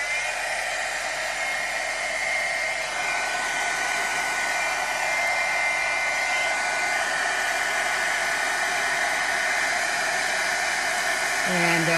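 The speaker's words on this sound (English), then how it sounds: "we'll just zap this with the heat tool" Heat gun melting embossing powder in a craft project, a loud continuous blowing whoosh with a steady fan whine that holds evenly for the whole stretch and changes slightly at the end.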